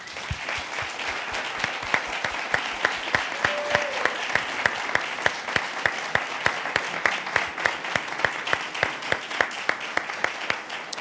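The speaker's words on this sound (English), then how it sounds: "So a round of applause for you as well." An audience at a mayoral candidate forum in a Trenton restaurant applauds steadily, a dense run of close, crisp claps that holds throughout with no break.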